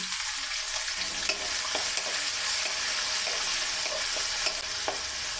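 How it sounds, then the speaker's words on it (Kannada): Chopped onion fries in hot oil with mustard seeds and split lentils for an avarekalu upma, a steady dense sizzle with soft scraping stir strokes every second or so, close and alone. "ಈ ಈರುಳ್ಳಿ ಸ್ವಲ್ಪ ಕೆಂಪಾಗೋವರೆಗೂ ನಾವು ಅದನ್ನು ಹುರ್ಕೋಬೇಕು"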